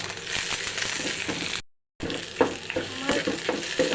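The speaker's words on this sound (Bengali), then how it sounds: "পেঁয়াজ রসুন কুচি মরিচ শুকনো মরিচ ভাজা হচ্ছে" Onion, garlic and dried chili frying in a pan for chicken kala bhuna, a steady close sizzle with stirring scrapes, briefly cut to silence midway, no talk.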